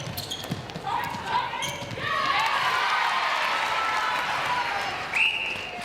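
A netball crowd at a Superleague match between Saracens Mavericks and Severn Stars swells into loud cheering and applause, with a commentator talking over it and a whistle cutting through near the end.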